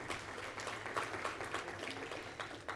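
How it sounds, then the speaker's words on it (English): Audience applause at Africa Tech Week 2024, a tech conference: a crowd claps in a dense, steady patter throughout, moderately loud and fairly distant, with no talking over it. "Let's give him a round of applause."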